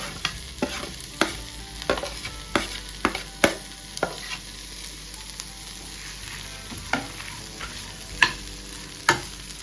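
Whole sambar spices frying in a pan for village-style chicken sambar, a quiet sizzle under repeated sharp spatula taps and scrapes in an uneven rhythm, with no talking.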